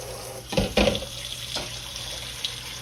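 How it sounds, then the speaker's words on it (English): Water poured from a tap into a pot of red potatoes and fresh green beans, a short splashing gush in two quick bursts, then a quiet room hiss with a faint later trickle. "now I'm gonna add the water. Add the water to this."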